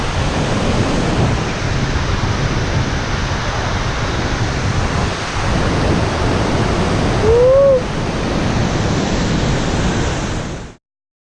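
Waterfall inside a cave, a constant dense roar of rushing water, loud and close, with a brief faint whistle-like tone partway through before it cuts off.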